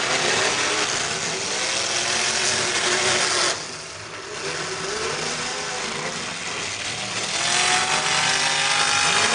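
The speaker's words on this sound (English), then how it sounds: "That 98 car sounds so good." Demolition derby car engines roar and rev loudly and continuously at a live event, holding steady with a brief dip in intensity midway before surging again.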